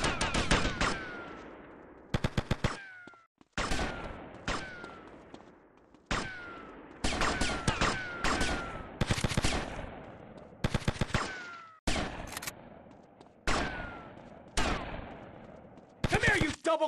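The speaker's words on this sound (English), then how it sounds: "Guns are legal in Vice City, pal." Repeated bursts of automatic gunfire in GTA Vice City, loud rapid volleys separated by short pauses, with brief shouted game dialogue between them.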